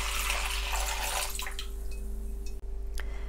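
Lukewarm water pours into a large bowl for making bread dough, a steady rushing splash for about a second and a half that gives way to a few scattered drips.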